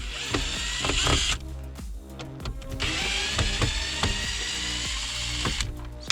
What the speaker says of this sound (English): I've got Phillips screws in here, so cordless makes that nice.